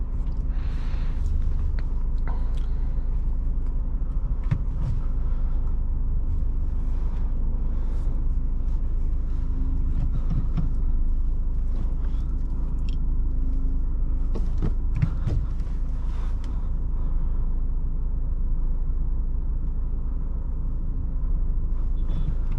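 A 2017 Ford Focus RS engine during a launch from a standstill gives a loud, continuous, close-up rumble with a steady drone that holds throughout, with no talking.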